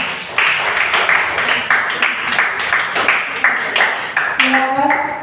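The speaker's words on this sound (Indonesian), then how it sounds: "Berikan aplaus dulu untuk kelompok 2." A classroom of students applauds a student group, with quick, overlapping claps holding steady for several seconds while voices sound along with them.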